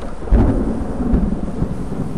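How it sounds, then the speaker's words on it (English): A thunderstorm by a river: a deep rolling rumble of thunder swells and fades under a steady wash of rain, loud and close, with no one speaking. "Storms come quick round here."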